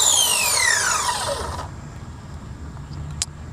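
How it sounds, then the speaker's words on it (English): Traxxas Raptor R RC truck with something rubbing and grinding near the rear, a close whining drivetrain whir that falls steadily in pitch as it spins down and stops, followed by quiet and a faint click. "Something's rubbing and grinding"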